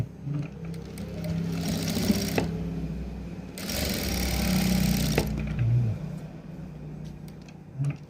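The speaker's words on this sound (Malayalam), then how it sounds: "ഇനി നമുക്ക് ഈ സൈഡിലെ ഷോൾഡർ കൊണ്ടൊന്ന് അടിച്ചു കൊടുക്കാം." A sewing machine stitches a garment shoulder seam in two bursts of steady, close motor whirring, separated and surrounded by quieter handling noise and a low background rumble.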